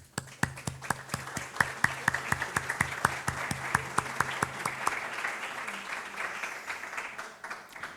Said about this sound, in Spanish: Un aplauso para María José